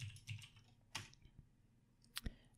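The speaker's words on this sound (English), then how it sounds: "So now just press login and type in your password," Quiet keystrokes come from a computer keyboard as a password is typed, arriving as a few scattered clicks and taps close to the microphone with no one speaking.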